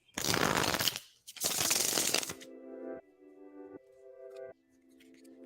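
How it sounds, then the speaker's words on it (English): A deck of tarot cards is riffle-shuffled twice in two loud, close, papery bursts, followed by quieter chiming tones. "I love the way these cards shuffle."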